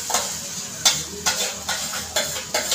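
Mashed eggplant stir-fried with spices in hot oil for a spicy bharit, with steady sizzling and frying and a handful of distinct spoon-stirring scrapes at a regular rhythm, close and clear, no talking.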